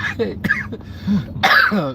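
A few short, sharp coughs mixed with throat clearing, close by, with bits of voice between them.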